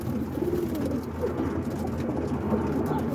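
Continuous low cooing from a flock of roller pigeons inside a Boston coop, many birds layered together at close range, no speech.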